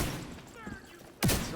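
A sudden loud burst of enemy gunfire hits near the end in a Division 2 firefight, following a quieter stretch with faint background sounds.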